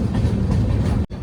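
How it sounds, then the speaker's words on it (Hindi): Saryu Yamuna Express arriving at Chhapra Junction, a steady close rumble of rolling wheels and carriages with no voices over it. "छपरा जंक्शन पर अराइविंग करती हुई सरयू यमुना एक्सप्रेस"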